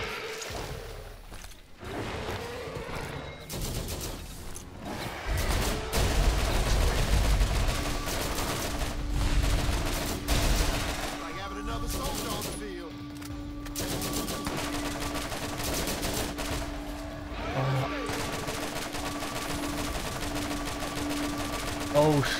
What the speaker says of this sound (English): It's good this gun because it stuns them. The heavy machine guns must stun the enemy.